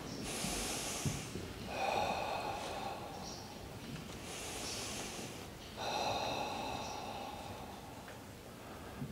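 Slow deep breaths during a guided meditation, drawn in through the nose and let out through the mouth, two long airy exhales several seconds apart, close and fairly soft with no talking.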